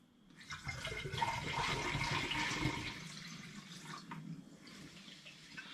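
Homemade apple cider vinegar poured into a glass demijohn, a continuous splashing trickle that swells for a few seconds then settles into a softer, thinner stream, fairly close and alone.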